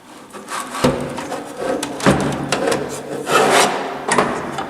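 An Xtralis VESDA-E smoke detector chassis is handled and stood upright, making a few close knocks, thumps and scraping rubs with no speech.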